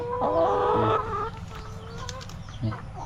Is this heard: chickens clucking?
yes